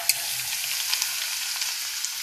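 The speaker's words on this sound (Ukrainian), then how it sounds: "Як гарно смажиться сало" Steady crackling sizzle of pork fat frying in a pan, dense and continuous with occasional sharper pops, close and fairly loud.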